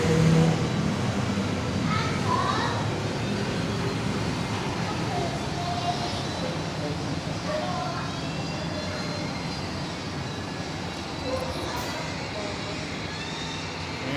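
Jammed road traffic at night, a constant broad rumble of idling and creeping cars and engines, with faint horn-like tones and distant voices mixed into the steady wash of noise.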